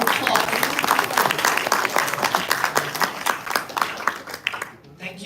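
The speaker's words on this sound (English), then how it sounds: "Please give him a round of applause." A meeting audience breaks into warm, sustained applause, dense clapping close and steady for several seconds before tapering off at the end.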